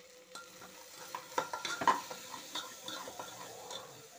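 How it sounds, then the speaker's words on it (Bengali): Lentils are sautéed with salt and turmeric in a pan for khichuri, giving a faint, steady sizzle broken by a few close scraping stirs of a spoon. "ডালগুলো একটু কষিয়ে নেব"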